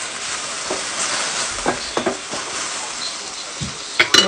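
Tuna steak and vegetables fry in a pan with a steady close sizzle and hiss, broken by a few short clatters and stirring knocks from utensils.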